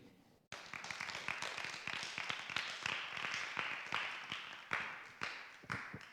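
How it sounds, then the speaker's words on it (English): Audience in a school classroom applauds after a student's short presentation, a dense burst of many hands clapping that starts abruptly and holds steady at close range, with a few sharper claps and a brief cheer near the end. "another round of applause for Miles"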